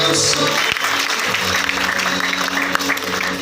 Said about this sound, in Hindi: रॉयल क्यू के लिए जोरदार ताली होनी चाहिए